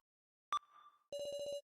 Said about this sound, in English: Joe, is that yours ringing?